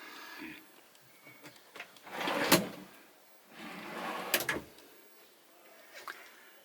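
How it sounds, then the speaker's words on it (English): Large drawer in a 2020 Weinsberg CaraTour 630ME motorhome sliding open and shut, two distinct rumbling slides each ending in a sharp knock, with quieter handling clicks between, close up and without talk. "Big drawer, as you get with all Knaus models. I'll show you the one below."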